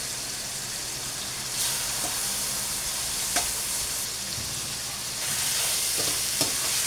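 Chicken marinated in soy sauce, calamansi and black pepper fries in a pan with a loud, steady, close sizzle and hiss, broken by a few faint stirring scrapes.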